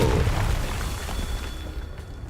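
A Confringo spell explodes in Hogwarts Legacy with a loud, deep fiery boom that rumbles and slowly fades over a couple of seconds.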